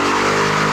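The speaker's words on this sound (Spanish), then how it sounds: "lo que permite hacer grandes quemadas de llanta" A Ford Mustang GT with a limited-slip differential doing a tire burnout, heard as a loud, steady roar of engine and squealing, spinning tires held continuously with no break.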